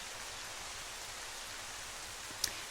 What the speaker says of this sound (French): Il n'y a que le son de la pluie.